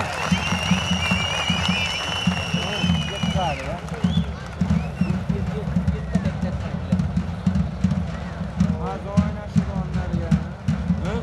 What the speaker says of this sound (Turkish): alkış isterim